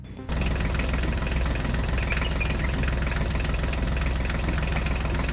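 Small toy tractors' engines run steadily, a loud continuous idling drone with a knocking, rattling texture, starting abruptly after a brief quieter moment and holding constant throughout.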